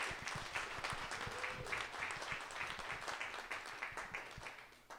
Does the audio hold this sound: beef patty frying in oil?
no